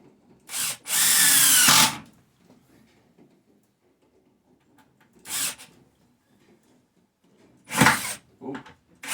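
Power drill driving screws into wood while building a pig waterer: a long whirring burst near the start, then two shorter spins later, close and loud, separated by quiet handling noises.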